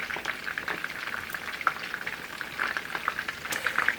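Egg-coated chicken cutlets frying in a pan for chicken francese, a bubbling sizzle full of small pops and spits, fairly close and steady.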